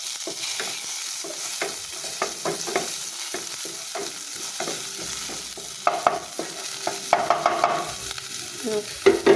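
Onion sautés in a pan for an octopus dish, a constant hiss under repeated scraping and clattering strokes of a spatula that grow busier toward the end.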